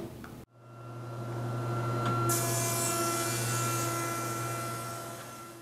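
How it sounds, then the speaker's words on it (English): A Jet 208HH 20-inch stationary woodworking planer cuts a board: after a brief gap, a loud, steady motor drone starts up, and a brighter cutting roar joins it about two seconds later and holds. "you want to send a board through the planer"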